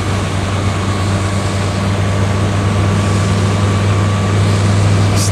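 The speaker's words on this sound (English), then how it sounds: "You hear the wind in the water more than you hear the engine." A steady, low engine drone from a Sea Ray Sun Sport 250 motorboat cruising on a lake, with broadband wind and water rush over it, continuous and even throughout, with no one speaking.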